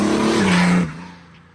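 BMW E30 accelerating hard with the rear tyre spinning during a gear change: a loud, rising engine howl mixed with tyre squeal that drops sharply as the shift comes and revs fall away.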